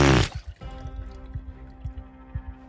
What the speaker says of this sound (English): I'm gonna go back for another drink in that sweet, sweet water cooler.